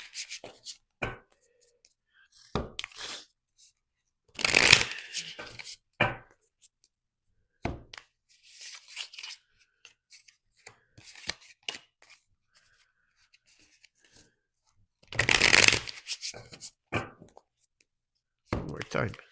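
Tarot cards being shuffled by hand, heard as a few short bursts of crisp riffling and rubbing separated by long quiet gaps, with occasional soft clicks and faint voice sounds in between.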